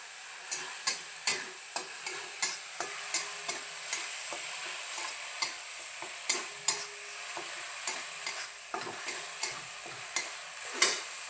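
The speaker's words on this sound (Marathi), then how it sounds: "ते पूर्ण एकजीव करून घ्यायचं" Onion and ground masala paste are stirred and sautéed in a pan for vada pav, with regular scraping strokes about twice a second over a light, continuous sizzle.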